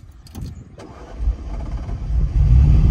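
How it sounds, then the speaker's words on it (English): A vintage Ferrari engine cranks on the starter and catches, building into a loud, steady idle that swells in volume close by. "It'll make it easier for the starter motor to turn over the engine."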